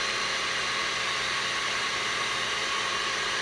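A Hozodo pasta machine rolls spaghetti dough with a steady, even whirring hum that runs unbroken and fairly quiet throughout, with no talking.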